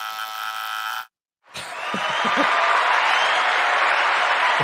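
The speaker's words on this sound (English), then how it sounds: "I don't know why there's clapping because nobody got it right." A live audience at a magician's show breaks into applause after a short silence, a scatter of first claps quickly swelling into a steady, broad wash of clapping that holds to the end.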